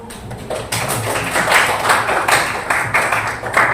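Students in a classroom clap steadily for the presenting groups, a dense, close, fairly loud round of applause lasting the whole stretch.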